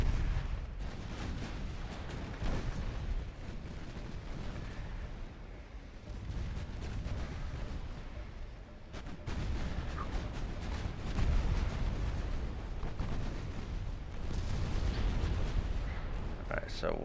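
Secondary guns on a warship in Ultimate Admiral Dreadnoughts thud and boom repeatedly against a dense, continuous rumble of naval battle, the shots sounding somewhat distant, with a voice talking over much of it.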